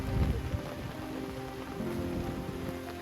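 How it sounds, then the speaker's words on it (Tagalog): Heavy rain pours down at a family campsite during a rainstorm, making a dense, steady wash of sound with a low steady hum underneath and no voices. "Medyo lumakas na yung ulan."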